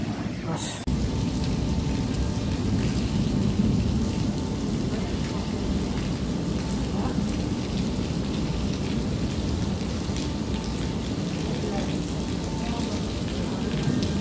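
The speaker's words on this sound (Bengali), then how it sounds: "আজকে 4 বছরের ভিতরে এত বৃষ্টি আমি কখনো দেখি নাই।" Heavy rain pours down in Mecca near a mosque, a dense, continuous roar of water on surfaces that holds steady throughout, with faint voices beneath it.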